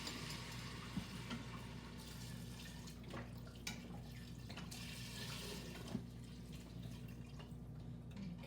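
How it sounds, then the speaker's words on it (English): Chicken stock, reduced-sodium from a carton, poured into a cooking pot, giving a steady continuous liquid splash with a few small clinks, close and alone with no talk. "I'm going to add about 8 cups of liquid"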